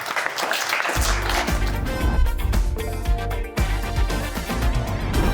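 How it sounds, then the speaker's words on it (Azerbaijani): A television studio audience on a comedy talk show breaks into loud, sustained applause, with music playing alongside and the clapping staying strong through to the end. "Ay xala alqışlayaq bir dənə."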